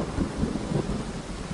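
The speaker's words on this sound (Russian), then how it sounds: "Хорошая гроза." A thunderstorm in Euro Truck Simulator 2 rolls on as a steady low rumble with rain noise, heard alone at moderate level.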